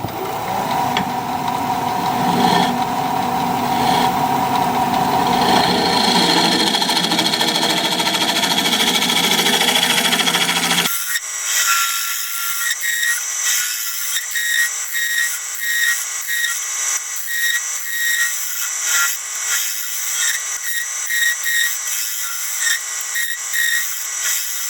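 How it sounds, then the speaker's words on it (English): A freshly burred scraper works apricot wood on a lathe, giving a steady, close grinding hum with a fluttering scrape that shifts to a lighter, rattling texture partway through. "I'm going to put a fresh burr on my scraper and we'll scrape."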